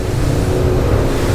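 A Cranchi A46 Luxury Tender motorboat runs at wide open throttle around 3,600 revs, its engines giving a steady, dense low roar with hull and water rush, loud and close throughout.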